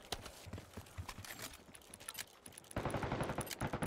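Rapid gunfire in the Call of Duty Black Ops 6 video game, a dense string of sharp shots that swells louder and fuller toward the end, with a steady ticking pattern running above.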